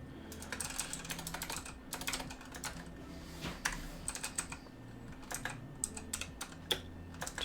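Quick, light typing on a computer keyboard clatters in irregular bursts of keystrokes with short pauses, fairly close and quiet, over a low steady hum with no talking.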